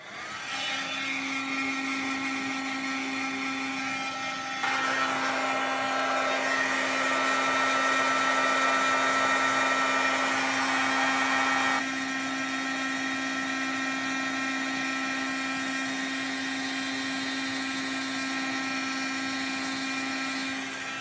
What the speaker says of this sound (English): And then I'm just going to bring my heat tool in.